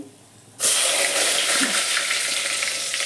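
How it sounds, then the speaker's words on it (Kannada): Cumin and mustard seeds hit hot oil for pulao and burst into a sudden loud sizzle that stays close and steady, crackling for a few seconds without any talk. "ಇದಕ್ಕೆ ಈಗ ಜಿರ್ಗಿ ಸಾಸಿವೆ ಹಾಕಿನ್ರಿ ಈಗಲೇ ಎಣ್ಣೆ ಕಾಲತಿ"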